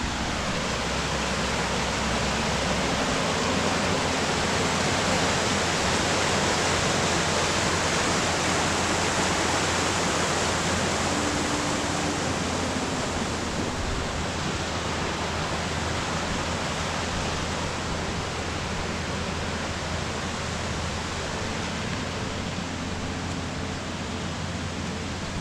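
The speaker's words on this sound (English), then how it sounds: "right behind me is Foos's Creek" Foos's Creek flows steadily outdoors at a search site, a dense continuous rush of water that stays even and loud for the whole stretch, with no voices.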